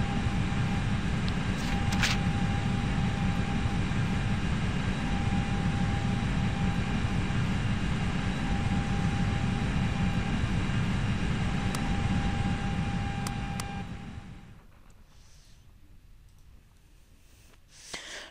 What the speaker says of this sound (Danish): og så slukker vi for flyet